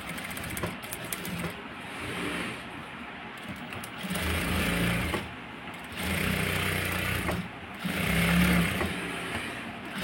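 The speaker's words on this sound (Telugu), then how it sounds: "ఇప్పుడు పైపింగ్ పక్కనే మనం స్టిచ్చింగ్ అనేది వేసుకోవాలి" A sewing machine stitches along blouse piping in bursts, its whirring motor running for a few seconds at a time and pausing between runs, with a voice talking over it.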